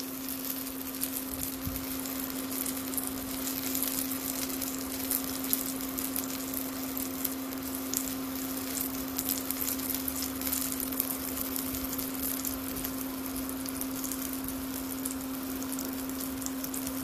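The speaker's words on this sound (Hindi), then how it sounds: "तो अभी थोड़े देर में दूसरी तरफ से इसे फ्राई करने देता हूँ।" Besan chilla frying in a pan on the second side, a continuous soft sizzle and crackle heard up close, steady and unbroken throughout with a faint constant hum beneath.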